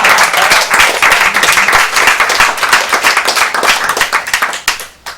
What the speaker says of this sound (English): So there's lots of applause going on